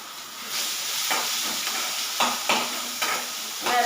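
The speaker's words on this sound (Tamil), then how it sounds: "வெங்காயம் தக்காளி பச்சை மிளகா கொஞ்சமாக லேசாக வந்து நம்ம வதக்கிக்கிறோம்" Onion, tomato and green chili being sautéed in a pan, giving a soft sizzling hiss with a few scraping stir strokes, quiet and close, no talking.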